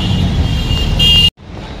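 Auto rickshaw rides through traffic with a close, rumbling motor and road noise. The sound cuts off abruptly partway, then returns quieter and thinner.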